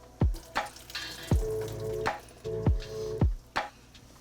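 Turkey stock being slowly poured through a colander from a pot, with irregular splashing gushes and wet glugging bursts, some drips in between, close up and without talk.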